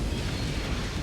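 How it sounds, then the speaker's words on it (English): An artillery shell explodes in the mech combat game MechWarrior 5, a single dull, rumbling blast with heavy low-end weight heard alone. "Where's this coming from? There's been no artillery this whole match"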